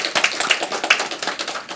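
A church congregation applauds after a service announcement, a dense steady clatter of many hands clapping together, sustained and fairly loud throughout with no talk over it.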